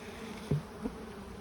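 Honey bees buzzing around stacked beehives during a honey flow, with a couple of brief, close buzzes as single bees fly past over a faint steady background hum.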